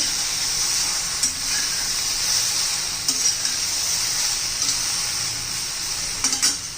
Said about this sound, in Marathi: अशी तेलामध्ये परतून घेतली ना, खूप छान अशी टेस्ट येते.